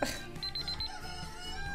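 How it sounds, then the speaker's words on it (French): An alarm clock goes off with a quick run of about five high, bright beeps, close and fairly loud, over low room noise. "Vous entendez mon magnifique euh, réveil"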